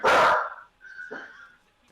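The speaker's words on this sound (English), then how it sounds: "Sorry, my dog's barking." A dog barks near the microphone, one loud bark followed by a shorter, fainter yelp-like bark, with no talk over it.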